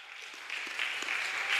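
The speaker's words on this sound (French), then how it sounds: "Judas Iscariote, on acclame." Audience applause at a Sunday church children's service, a steady wash of clapping building slightly louder over a short moment with no voices on top.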